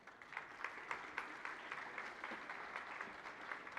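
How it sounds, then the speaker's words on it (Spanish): Faint, distant applause from a conference audience at a talk on sustainable innovation and human rights, steady scattered clapping for a few seconds with no voices over it. "Un aplauso, por favor."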